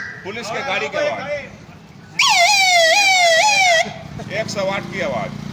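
A whistle imitates a police car siren in a loud, steady wavering wail lasting about a second and a half, with someone talking before and after it.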